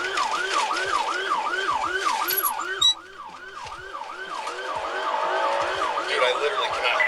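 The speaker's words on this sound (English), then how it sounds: "Sirens blaring in a residential neighborhood." Wailing emergency sirens cycle rapidly up and down in a residential neighborhood, loud and close, with a brief clunk partway through and traffic noise underneath.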